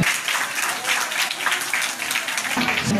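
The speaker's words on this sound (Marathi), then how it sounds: "टाळ्यांना जीएसटी नाही, आपण जोरदार टाळ्या वाजवायच्या आहेत" An audience at a village felicitation event honouring women gives a brief, dense burst of clapping that stays steady and fairly loud throughout.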